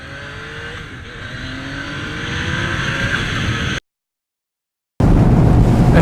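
A sports bike engine revs hard as the rider opens the throttle, a loud rising roar climbing steadily for several seconds, cutting to silence, then returning as a dense, loud burst.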